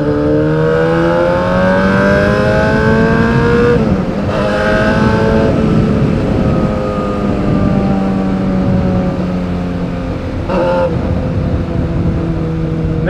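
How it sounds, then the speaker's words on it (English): A Yamaha R6 motorcycle engine idling and revving nearby, a loud continuous whine that rises and falls in pitch with throttle blips, with no voices over it. "Watch this. See? Bike running."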